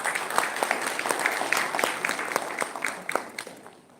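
Moderate audience applause at a university panel event, steady crowd clapping with distinct individual claps standing out, continuing evenly through the few seconds and tapering slightly at the end.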